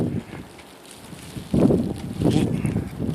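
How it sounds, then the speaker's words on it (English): Gusty wind during a Minneapolis blizzard buffets the microphone in uneven bursts, a rough low rumble that drops briefly and then surges again, close and loud. "It's a little blustery."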